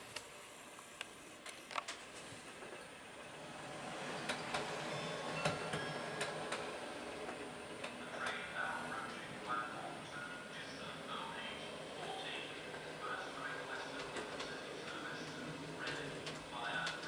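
A model train runs along layout track and pulls into a station, its faint mechanical ticking and clicking rolling steadily beneath a soft background hum.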